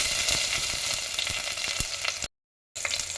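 Green chillies, cumin and curry leaves sizzle steadily in hot oil, a dense close crackle with small pops, broken by a brief silent gap near the end.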